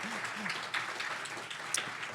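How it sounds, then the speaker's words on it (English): Meeting attendees give a modest round of applause at an annual forum, fairly quiet and steady clapping with a few louder claps and faint murmuring underneath. "let's give these people a round of applause"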